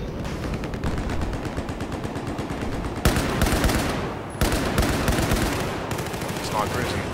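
AK rifles firing in Battlefield 4, rapid automatic bursts of sharp cracks with a couple of louder, closer volleys, continuing through most of the stretch amid battle noise.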